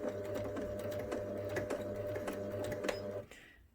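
A sewing machine runs a short burst of reverse stitching while sewing a seam on a memory bear, a steady close mechanical whir with fast rhythmic clicks that stops abruptly near the end.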